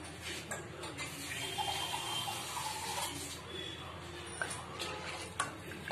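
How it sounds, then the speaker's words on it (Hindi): Water is poured into kadhi cooking in a small pot, a soft steady splashing and running-water wash close by that lasts several seconds, ending with a few light clinks. "थोड़ा सा पानी और डालेंगे इसमें"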